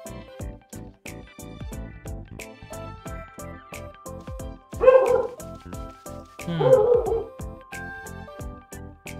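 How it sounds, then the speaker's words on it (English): Dogs bark in a video game, in repeated yips and bow-wow calls that rise to louder bursts midway, set over steady rhythmic game music, with a voice talking at times. "Yep, dogs."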